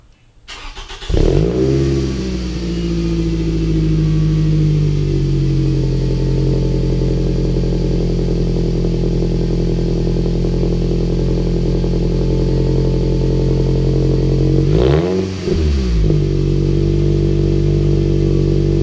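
A Scion tC engine with its stock exhaust header starts up and settles into a steady, loud idle, then revs up sharply and falls back around the fifteen-second mark, heard up close with no talking.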